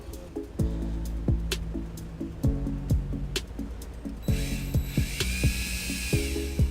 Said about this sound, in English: I'll drill a little 1/4-inch hole through the flood plug